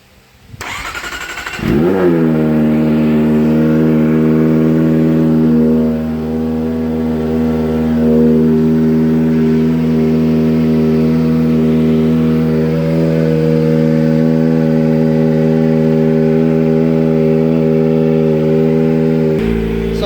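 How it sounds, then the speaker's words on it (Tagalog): Kawasaki ZX25R/4RR motorcycle engine fitted with a new OEM muffler starts up, then settles into a steady, loud, high-pitched idle that holds for most of the clip with slight swells and no speech. "Rev lang natin konti"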